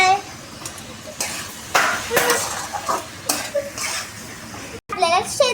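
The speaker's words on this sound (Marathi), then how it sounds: "आता हलवून घ्यायचं आहे" Peas and cauliflower for homemade veg pulao are stirred in a metal pot, with repeated scraping and clinking strokes of a spoon over a soft sizzle, while someone talks and a voice cuts in.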